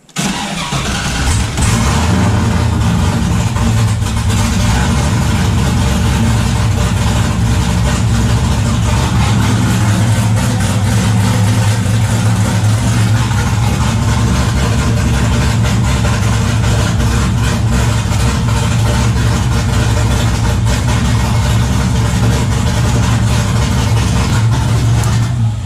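A car engine cranks and starts in neutral, then settles into a loud, steady idle running close by for the whole stretch, with no talking over it.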